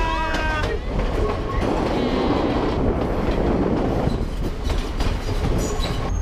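A passenger train on the Ella–Nuwara Eliya line in Sri Lanka rumbles loudly and steadily, with continuous wheel and carriage noise and faint squeals as it slows toward a stop.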